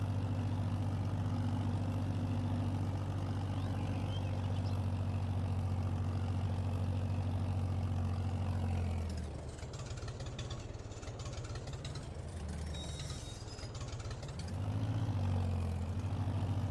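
A tractor engine in Farming Simulator 22 idles steadily with a low, even hum, then the sound drops and thins for a few seconds before the idle returns near the end, with no talking.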